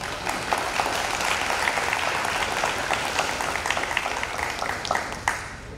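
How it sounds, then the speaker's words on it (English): An audience at an evening community meeting on Eastside High School construction gives students a round of applause: brisk, sustained clapping from a roomful of people, fairly close and even, slowly thinning toward the end. "Can we give our students another round of applause?"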